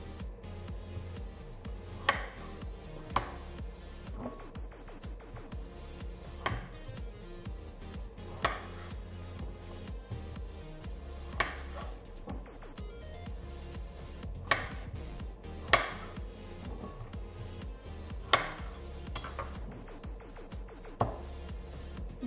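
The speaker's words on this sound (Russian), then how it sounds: "Подготавливаем кабачки. Режем на кусочки." A knife chops zucchini into pieces on a cutting board, with steady, evenly spaced close thuds repeating for over twenty seconds.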